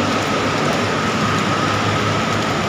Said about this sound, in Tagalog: Naabot na ako ng malakas na ulan dito sa may Sukat.